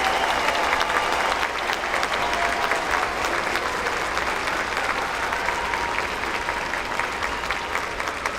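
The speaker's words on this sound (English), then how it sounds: "Let's have a round of applause for our 2026 master's degree graduates." Steady, sustained applause from a large crowd at a graduation commencement ceremony fills the whole stretch, even and unbroken.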